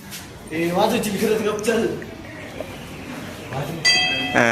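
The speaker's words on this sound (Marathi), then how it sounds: "आओ हे बेल वाजव, बेल वाजव" A bell is rung near the end with a clear, sustained ringing tone that follows several seconds of people talking.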